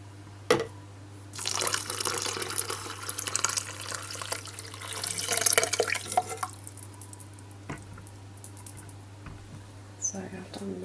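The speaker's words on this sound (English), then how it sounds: "I'm going to put the rest of the liquid in" Liquid poured into a soup maker while making pea soup, a trickling, splashing pour in the middle stretch with faint drips and small knocks around it, fairly quiet and close.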